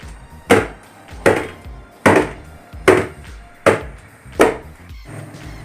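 A carrot cake tin is banged down on a hard surface to knock out air bubbles, six loud, evenly spaced thuds roughly every second.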